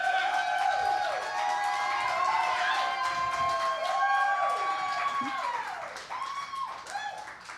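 Audience applause and cheering for comedian May at a live comedy show, a continuous wash of clapping from a crowd with voices and whoops riding over it, fairly loud and close, tapering near the end.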